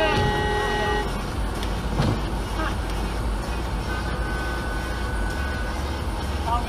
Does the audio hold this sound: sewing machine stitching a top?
no